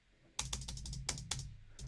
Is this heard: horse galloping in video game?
no